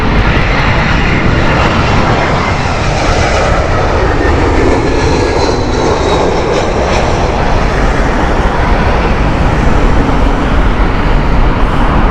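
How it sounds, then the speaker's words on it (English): A British Airways Airbus A320 roars loudly and steadily at Heathrow Airport on a windy morning. Its jet engine noise fills the whole stretch without a break, and no one speaks. "This is an Airbus A320 of British Airways."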